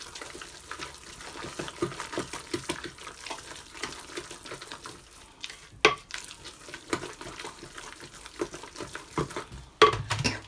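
A spoon works through thick carrot cake batter with sugar, nutmeg and vanilla, making a continuous wet, rhythmic scraping and squelching against the bowl, close by, with two sharper knocks along the way and no speech.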